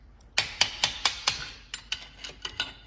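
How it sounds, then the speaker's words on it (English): Sharp metallic strikes of a hammer driving a screwdriver against the grooves of a nut on a stub truck, about ten evenly paced close blows, the later ones lighter, with no talk. "You just need to keep hammering the screwdriver in here on these grooves"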